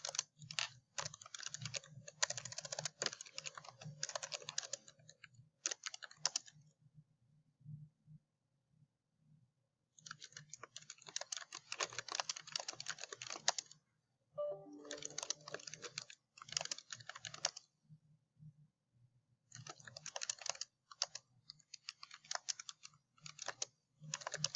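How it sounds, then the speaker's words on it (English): A computer keyboard typed on in quick, close clattering bursts separated by short silent pauses, with no voices. "So you can type in whatever topic you would like."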